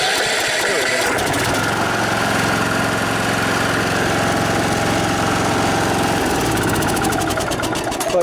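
A riding lawnmower's starter cranks its engine as it tries to turn over, a loud sustained mechanical churning close by that changes pitch near the end, with people talking over it.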